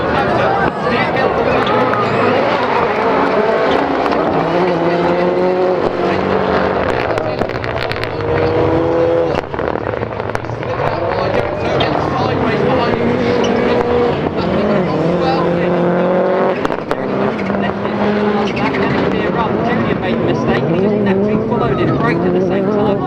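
Rallycross race cars, including a Mitsubishi Evo 10, roar continuously around the Silverstone circuit, engines loud and revving with shifting pitch, under constant excited commentary.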